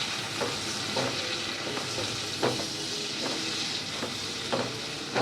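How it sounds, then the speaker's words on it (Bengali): Cashews and raisins fry in hot ghee with a steady, close sizzle, broken by regular soft scraping strokes of a spoon stirring the pan. "কাজু আর কিশমিশটাকে এই ঘিয়ের মধ্যে একটু 2 থেকে 3 মিনিট ভাজবে"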